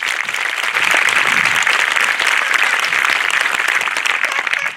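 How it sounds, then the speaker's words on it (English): Sustained applause from a graduation audience honoring scholarship recipients, dense steady clapping from many hands filling the space, loud and continuous with no voices standing out. "Please give them a round of applause."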